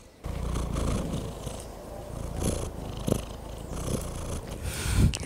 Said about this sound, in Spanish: Está ronroneando.